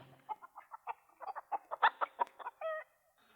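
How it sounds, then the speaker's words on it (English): A hen clucks in a quick, rhythmic run of short notes, ending in a longer drawn-out squawk, close and clear against silence. "a chicken hatched out and flew away"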